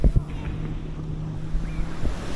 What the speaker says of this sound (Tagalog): Yung alon niya, hindi siya ganun kataas.